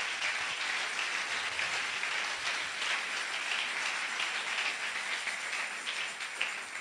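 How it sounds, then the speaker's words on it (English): A church congregation at a Ghanaian prophet's service claps hands together, a dense, steady patter of many hands sustained throughout and heard at a moderate distance. "you can clap your hands"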